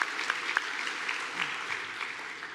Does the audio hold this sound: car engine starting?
no